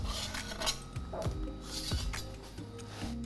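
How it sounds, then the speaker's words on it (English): Ooni spatula scraping and prying a golden-crusted pan pizza out of its metal pan, a handful of close metallic scrapes and clinks over a low background hum. "We're gonna go ahead and use our Ooni spatula to depan"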